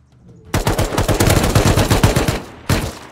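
Rapid automatic gunfire in the Rust video game, a loud close burst of many shots after a brief quiet start, then one more short burst near the end.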